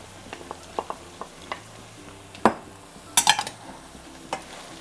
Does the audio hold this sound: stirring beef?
yes